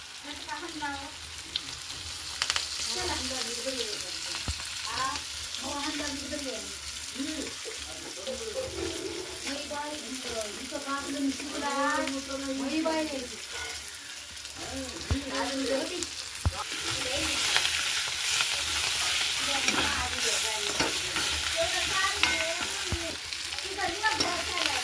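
Hand-picked fenugreek leaves fry in a pan with a steady soft sizzle and occasional stirring scrapes, fairly quiet, with someone speaking over it at times.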